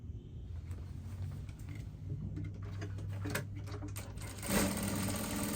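A sewing machine runs steadily, its rapid mechanical stitching whirring and ticking up close without any talking.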